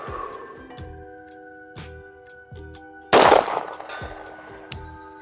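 Pistol shots from a Fusion Firearms XP Pro firing 124 grain ammunition at about 110 yards; one loud, sharp close report with a short tail and a smaller crack after it, amid a faint tonal background.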